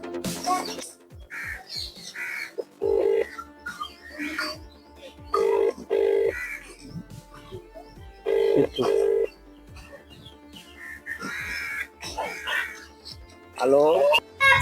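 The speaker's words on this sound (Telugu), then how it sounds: "వాళ్ళు ఫోన్ చేస్తా ఉంది" A telephone rings in several short, repeated electronic bursts spaced across the stretch, moderately loud, mixed with people talking in between.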